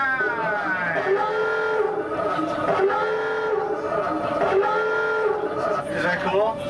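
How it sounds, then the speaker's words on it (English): A genuine submarine diving alarm sounds aboard a tourist submarine off Maui, a loud, sustained honking klaxon tone that pulses in repeated waves over a murmur of passengers. "That's a real submarine diving alarm"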